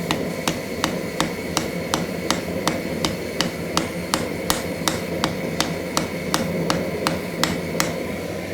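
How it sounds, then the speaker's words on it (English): A ball peen hammer peens over a metal pin in a steady, quick rhythm, about two dozen sharp ringing blows close by, over a low background hum. "take your ball peen hammer and you dome it over by hitting the edges down"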